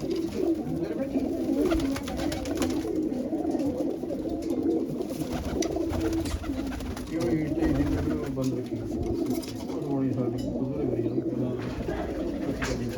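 Large pigeons coo in repeated low, throaty phrases, close by and mixed with background chatter and other bird sounds.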